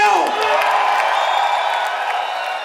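About 1,500 people packed into a theater for a Midnight Madness premiere of a Canadian film cheer and whoop together in a loud, continuous roar that holds steady throughout.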